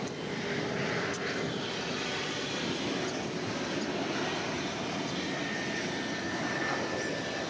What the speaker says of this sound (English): UPS Flight 9775, a Boeing 767, coming in from Houston Intercontinental Airport